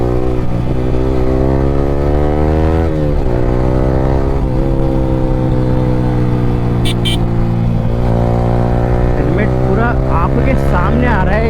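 A Yamaha R15 V3 motorcycle fitted with an Akrapovic R9 exhaust accelerates hard, its loud, close engine note rising through several gears with brief dips at each shift, a steady throaty drone throughout, no talking.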